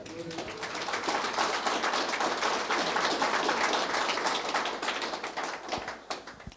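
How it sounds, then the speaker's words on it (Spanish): A church congregation claps together in a dense, steady burst lasting several seconds, filling the room at close range before tapering off, with voices faintly mixed in. "Fuerte aplauso a Cristo Jesucristo."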